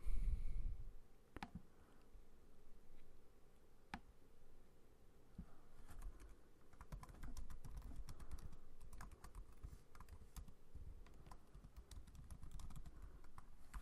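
Quiet, close computer keyboard typing: irregular light key clicks in short bursts with brief pauses, a faint background hum, and no voices.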